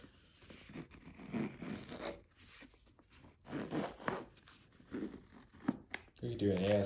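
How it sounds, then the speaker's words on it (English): A zipper slides open along a Beats Studio 3 headphone case in several slow, close rasping pulls with short pauses between them, and people talk quietly over part of it. "We could do an ASMR on just that zipper opening."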